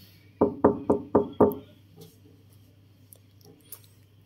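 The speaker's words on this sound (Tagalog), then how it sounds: "Katok na lang tayo." Five quick knocks rap on a hotel room door in Bangkok, close and evenly spaced, followed by quiet room tone with a few faint taps.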